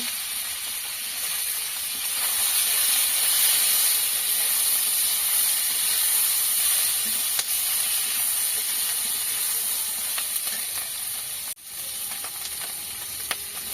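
Slit green chillies fry in a pan for sour spinach, giving a steady, close hissing sizzle with a brief clatter near the end, with no talk.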